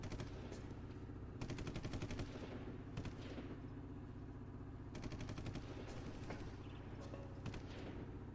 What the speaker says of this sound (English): Yeah, they're still shooting.